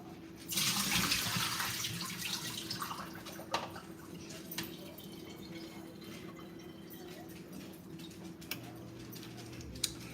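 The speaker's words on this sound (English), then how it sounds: "we drain the water." Water pours and splashes as it drains from a pot of potato wedges into a sink, loud at first then settling into a steady trickle with a few clinks.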